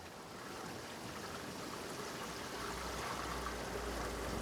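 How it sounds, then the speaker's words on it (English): Water rushes steadily back into a koi pond's multi-bay filter bay after a valve is opened, a quiet, constant broadband flow that builds slightly and carries on without interruption. "Here comes the water."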